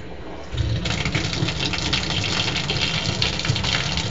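Tap water gushes steadily from a faucet while a guinea pig is bathed, starting abruptly and then running in a constant loud splashing stream.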